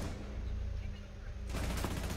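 Rapid burst of gunfire in the video game Rainbow Six Siege, a Bank map team deathmatch, loud and dense, with the firing thickening near the end.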